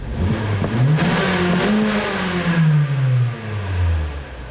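The 2.0-litre engine of a 2016 Mazda CX-3 GT revs hard, pitch climbing and falling in sweeping rises, loud and close with a strained, buzzy tone.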